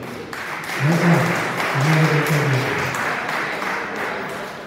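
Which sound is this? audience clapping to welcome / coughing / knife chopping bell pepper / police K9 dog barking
audience clapping to welcome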